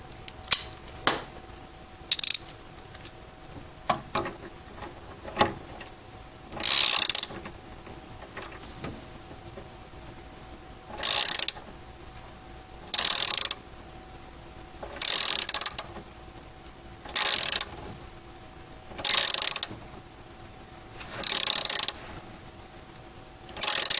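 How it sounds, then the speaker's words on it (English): A 9/16 socket wrench tightens a flying nut on a crossbar of a Trio-Trainer exercise machine, giving bursts of rapid ratcheting clicks separated by short pauses, close and fairly loud, with small mechanical knocks between strokes and no talking. "you're going to take the 9/16 socket wrench again"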